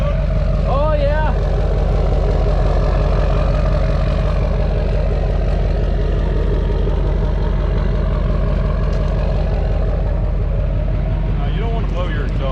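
A Duramax diesel truck idles loudly and close through a stack exhaust, a steady low chugging rumble with a faint rising whine at the start and end.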